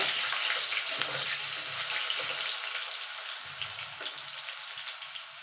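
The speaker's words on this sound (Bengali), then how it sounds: "আলুটা একটুখানি ভাজা ভাজা করে নেব" Potatoes sizzle in hot oil in a pan as a Bengali mixed vegetable curry is cooked, a steady close hiss with light crackling and spatter, no voices.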